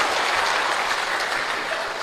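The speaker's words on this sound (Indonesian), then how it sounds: "Tepuk tangan dulu kasih bapak-bapak." An audience of men at a church gathering applauds in a dense, steady clatter of many hands clapping together, sustained and evenly loud from start to finish.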